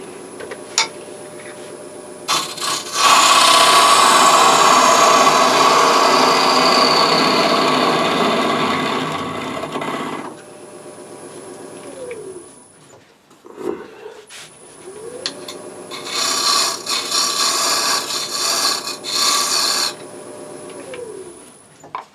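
Power sanding across the face of a small spalted beech trinket box, a loud steady whining drone that runs for several seconds, breaks off briefly, then returns in a second long pass.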